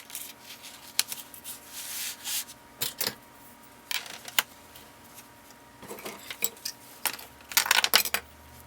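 Thin strips of vinyl top material being cut for the sides of a Chevy build, with intermittent close scraping, rubbing and snipping sounds in short irregular bursts and quiet pauses between.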